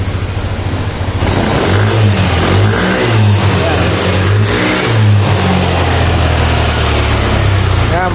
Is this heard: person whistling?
no